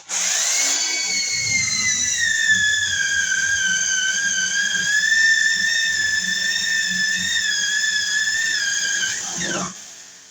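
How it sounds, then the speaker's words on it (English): A power drill drilling into an outlet box whines at a steady high pitch for several seconds, then winds down and stops near the end. "We'll drill in the center here."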